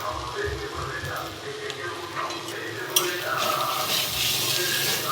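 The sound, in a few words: spices sautéing in a pan for cauliflower kofta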